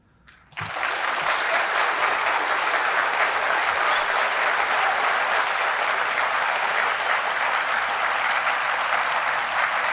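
Audience applause at the 1984 vice presidential debate bursts in suddenly after a quiet moment, then holds as a loud, dense, unbroken wash of clapping for the rest of the stretch.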